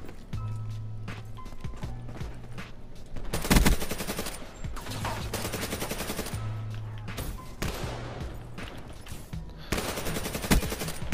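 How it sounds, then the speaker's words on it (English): Rapid bursts of automatic gunfire from a weapon in an online shooter video game, loud and close, with repeated volleys separated by short pauses and a steady game background underneath. "what the heck type of gun is that he was using?"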